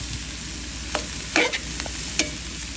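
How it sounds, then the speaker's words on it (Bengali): Papaya being stir-fried in a pan, with a low steady sizzle broken by a few sharp scrapes and stirring clatters, no voices. "ভাজা ভাজা করে রান্না করছি"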